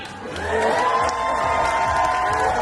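A Magic Kingdom crowd cheers and whoops for a man dancing, with a lively burst of shouts and excited voices that rises quickly and holds loud for a couple of seconds.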